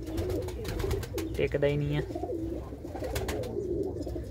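Black-eyed Mirab pigeon in its coop, one throaty coo rising near the middle over a voice talking close by.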